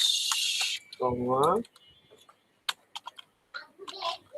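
Computer keyboard typing while entering a Dhaka address and Mirpur details into a form, scattered light key clicks in short bursts, with a spoken voice partway through.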